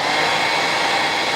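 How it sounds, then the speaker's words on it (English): A hair dryer blows with a steady, loud, unbroken whoosh of air, close by, used while tying a wet fly. "if you use the hairdryer here, just to open them out"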